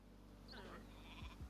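A goat bleats in the Northgard video game, a short faint call rising over a steady low game hum.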